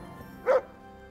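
A single short dog bark from the video game Kingdom Come Deliverance, close and clear against a quiet game background.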